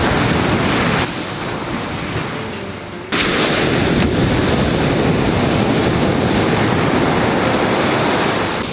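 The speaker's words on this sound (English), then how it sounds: "just listen to the ocean." Ocean surf breaks at Sand Beach in Acadia National Park at sunrise, a loud continuous roar of waves with wind buffeting the microphone and a brief dip before the wash surges back.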